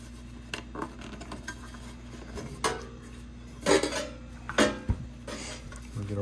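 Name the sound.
relief cuts in aluminum gutter with snips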